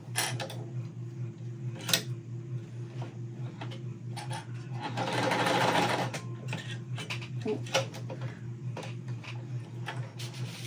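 A sewing machine stitches blue and white cotton fabric triangles together in a steady, fast mechanical whir. A louder burst comes near the middle, with a few sharp clicks and taps around it, and no talk.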